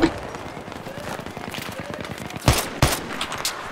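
Battlefield 3 gunfire in a multiplayer firefight, with a scatter of distant shots under the ambience and two sharp, louder cracks close together near the end.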